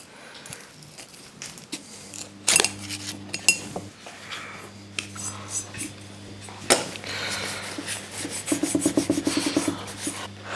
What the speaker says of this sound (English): I've got a Stanley knife scraper here as well, which I'm going to be much more cautious with.